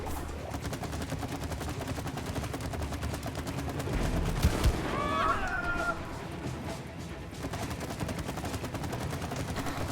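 Video game gunfire rattles in dense rapid bursts, close and continuous throughout, with a brief whistling effect in the middle.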